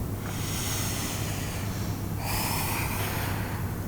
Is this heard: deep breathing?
yes